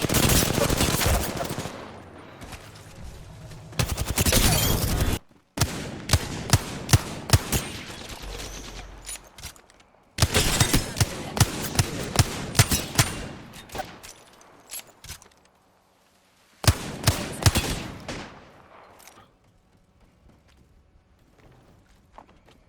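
Apex Legends gunfire: loud, close bursts of rapid automatic fire separated by short pauses, with sharp repeated cracks and a few scattered single shots as the shooting trails off near the end.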